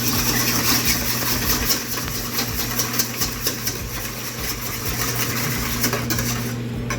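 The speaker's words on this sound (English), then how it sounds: "I'm going to whisk together my eggs" Eggs being whisked in a bowl while assembling lasagne, a rapid rhythmic tapping and clicking of a whisk against the bowl over a steady low background hum.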